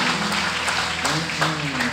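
A church congregation claps during a worship service, a brisk wash of clapping heard under a voice speaking over it.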